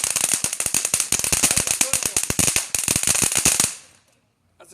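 Firecrackers burst in a dense, rapid string of sharp cracks and pops for several seconds, loud and close, then stop abruptly into near silence.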